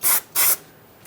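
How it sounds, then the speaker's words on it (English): Two short, hissing bursts of aerosol parts cleaner sprayed onto a 2007-2013 Acura MDX 3.7L V6 engine part near the oil pressure switch, close and loud, followed by quiet. "We'll use some parts cleaner on this,"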